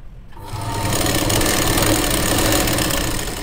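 A sewing machine stitches a churidar, starting up and then running as a steady, continuous mechanical whir and rattle for several seconds, close and fairly loud, with no speech.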